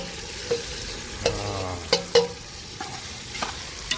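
Marinated chicken is stirred into reddish fried onions for chicken biryani cooked on a wood-fired stove, with a low sizzle under several sharp clanks and scrapes of a spoon against the pot.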